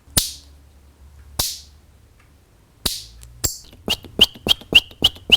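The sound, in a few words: Audubon bird call device imitating bird chirps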